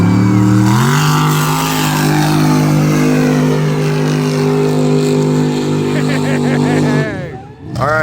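Race truck engine in a racing video game revving hard, a loud sustained growl that steps up in pitch near the start, holds steady, then drops and rises again at the end, with a voice talking over it.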